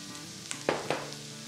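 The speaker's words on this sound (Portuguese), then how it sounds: "Vou esperar dar uma refogadinha aqui na cebola" Chopped onion and eggplant sautéing in a pan, a faint steady sizzle with a few brief spoon stirs and scrapes, close and without talk.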